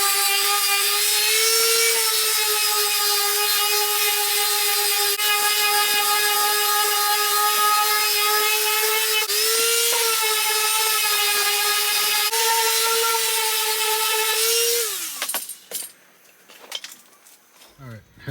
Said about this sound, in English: we got both of them sanded down